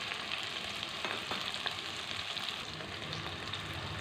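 A spoonful of cumin seeds sizzling in hot oil in a frying pan while making beetroot pickle, a steady dense crackling hiss that continues evenly throughout with no speech.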